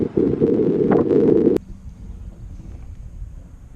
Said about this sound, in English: Wind's weird. It'll like gust.